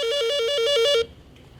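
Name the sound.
telephone ringing on a ship's bridge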